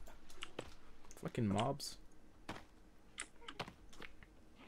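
Computer keyboard typing during a session of The Forest, a rapid run of light key clicks spread through the clip beneath a voice talking over it.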